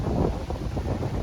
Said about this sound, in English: So it is very windy out here to no surprise, here in Tornado Alley.